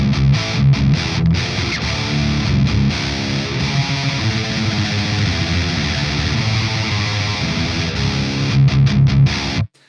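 Heavily distorted electric guitar through a Mesa Boogie Triple Rectifier Rev G high-gain tube amplifier, played loud and continuous, thick low-end chugging with sustained saturated chords, ending abruptly.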